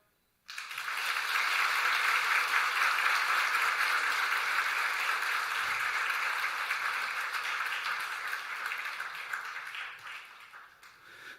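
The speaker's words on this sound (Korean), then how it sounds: "여러분 큰 박수로 함께 격려해 주시면" A church congregation applauds at a New Year's Eve service at Samcheok Central Church in Korea. The clapping is a sustained, even roar that starts abruptly, holds steady for about ten seconds, then slowly thins out.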